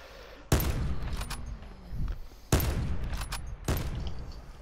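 Gunfire rings out in the online shooter game Call of Duty: Black Ops 4 Blackout, loud sharp bursts at about 0.5, 2.5 and 3.7 seconds with short decaying tails, and no speech.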